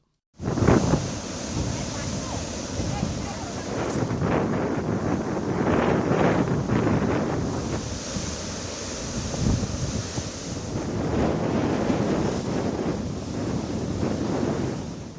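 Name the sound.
strong wind and furious sea waves during Cyclone Remal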